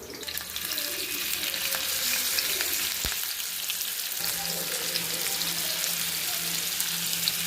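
Prawns frying in hot oil with curry leaves, giving a steady, dense sizzle throughout with a brief clink partway, close and moderately loud, no voices.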